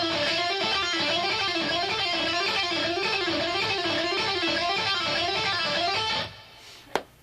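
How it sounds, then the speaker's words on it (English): Electric guitar played as a repeating picked sequence of picked notes mixed with hammer-ons and pull-offs, in a steady, fast, even rhythm for about six seconds before ringing out and stopping. "So the whole thing is like pick, pick, pull off, pick, pick, hammer, hammer."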